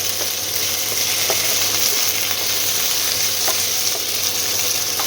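Chopped vegetables with potato are stirred as they fry in a pan for chow mein: a constant hissing sizzle with faint scraping ticks from the spatula at intervals. No one speaks.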